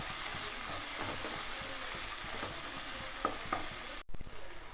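Tomatoes for chicken curry sauté in a pan with a quiet, even sizzle and regular soft stirring strokes; the sound cuts out briefly near the end before resuming.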